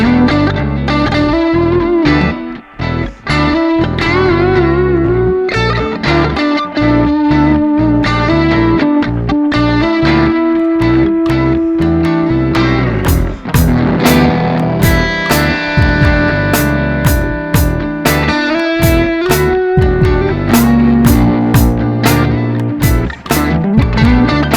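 Electric guitar played through a Boss GT-1000 Core on a low-gain tweed amp setting with a Klon-style overdrive and slapback reverb, a continuous run of picked notes and chords, loud and up front with short echoes trailing each attack.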